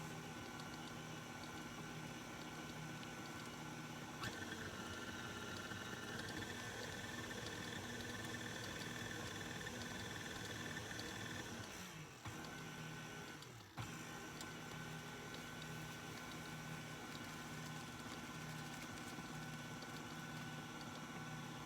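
An electric mixer whirs steadily while blending confectioner's sugar, a continuous close motor drone with brief dips and a couple of knocks partway through.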